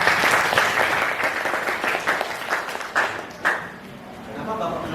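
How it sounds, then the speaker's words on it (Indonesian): Audience applause at an educational supervision session, steady clapping from a crowd that fades and thins toward the end, with a few louder claps standing out and some voice mixed in underneath. "Oke, tepuk tangan dulu dong."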